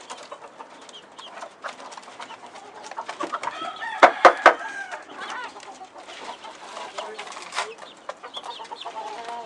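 Backyard chickens clucking and calling, with a sudden loud rooster crow partway through, while people talk quietly in the background.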